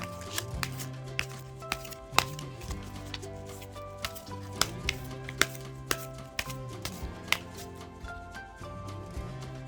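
Tarot cards being shuffled and drawn by hand, a quiet close run of crisp flicks and taps with soft rubbing between, uneven in rhythm and without talk.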